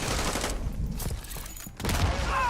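Gunfire in a Call of Duty mod multiplayer match, dense bursts of shots throughout, loud and close, with a brief lull midway before firing picks up again.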